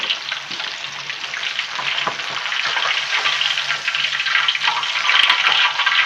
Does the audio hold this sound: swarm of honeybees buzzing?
no